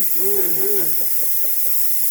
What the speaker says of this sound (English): There it goes. Look at that steam.